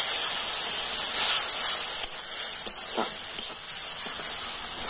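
Spices with ginger-garlic paste and a splash of water sautéing in a pan give a steady, close hiss, with a few small pops and crackles rising above the sizzle.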